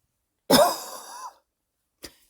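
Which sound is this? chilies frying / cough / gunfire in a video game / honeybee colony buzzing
cough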